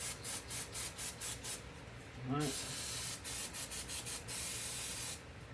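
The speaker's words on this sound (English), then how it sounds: "Spray out the holes." Aerosol carburetor cleaner sprays in a steady loud hiss for about three seconds onto a 2015 Dodge Journey Crossroad front hub bearing, set between bursts of scraping or rubbing, with someone speaking briefly.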